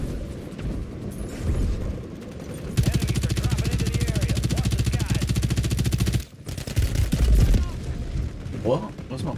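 Rapid automatic gunfire in the battle royale game Warzone: a loud, sustained burst of fast, evenly spaced shots lasting about three seconds, framed by quieter game noise and a voice.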